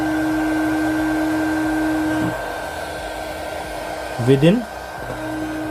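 A mini 300W hot air gun blows steadily while shrinking heat shrink tubing, a loud, close, constant fan whine that drops in pitch midway, with a short voice interjection over it.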